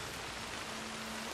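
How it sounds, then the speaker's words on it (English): Steady rain falls in the open-world Western game Red Dead Redemption 2, a dense, even hiss with no talk over it. "I mean, it's been raining for a long time right now."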